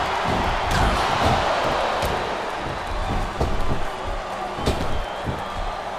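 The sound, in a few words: crowd chanting in a wrestling video game, WWE SmackDown vs Raw 2007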